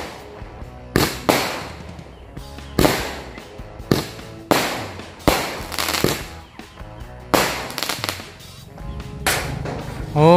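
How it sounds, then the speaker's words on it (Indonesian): A loud, close barrage of firecracker and firework explosions, bursting one after another in irregular rapid succession with crackling bangs throughout. "Nanti bakalan lebih bagus pas kita nyalain pas malam hari."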